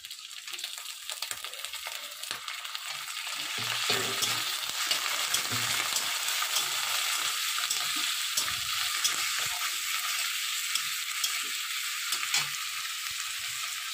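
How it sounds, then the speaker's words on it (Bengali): Prawn heads and onion fry in a pan with a continuous close sizzle and crackle, growing fuller partway through as stirring continues. "এবার দিয়ে দেব চিংড়ি মাছের মাথাটা।"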